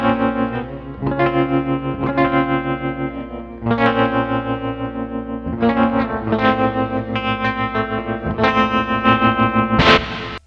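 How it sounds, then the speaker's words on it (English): Electric guitar through a battery-powered amp with reverb added, a series of strummed, slightly distorted chords ringing out with washy tails and a final sharp strum at the end. "Can add some reverb into that."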